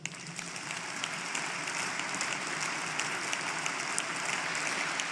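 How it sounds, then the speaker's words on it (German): A party conference audience applauds after a speech, a broad, steady wall of clapping from a large hall that holds at an even level throughout. "da bekommt ihr doch ordentlich Applaus"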